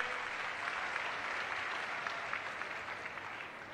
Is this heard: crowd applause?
yes